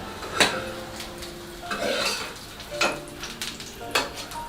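A poached egg sizzles and bubbles in hot oil in a pan, with a soft steady frying hiss broken by several sharp clinks of a utensil against the cookware.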